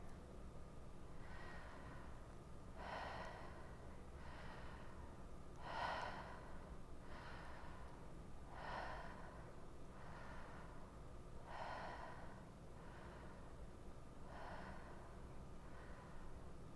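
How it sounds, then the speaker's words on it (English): Rhythmic conscious connected breathing: about seven deep, airy inhales flowing straight into relaxed exhales, steady and evenly spaced, close and clear over a low background hum, with no talking. "I'll start the relaxed exhale before I'm done completely breathing or filling up my body"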